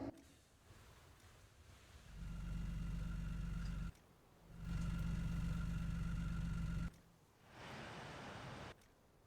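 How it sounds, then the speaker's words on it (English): Idling military trucks and vehicles parked in a video game hangar rumble in loud low bursts that cut in and out as the listener moves, with quieter gaps between. "I don't like sitting on this hangar because all these vehicles are on for some reason"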